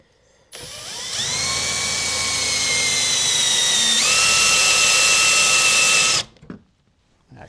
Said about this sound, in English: So let's drill those holes.